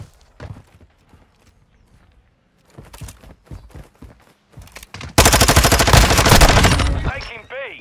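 Gunfire in Call of Duty Modern Warfare 2 ranked play, with scattered sharp shots and footsteps, then a loud sustained burst of rapid automatic fire near the end while players talk.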